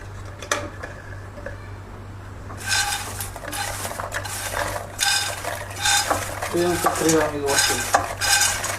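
Popcorn is stirred into caramelized sugar in a pan with a utensil, giving repeated close scraping and clattering strokes over a faint sizzle, with no talking.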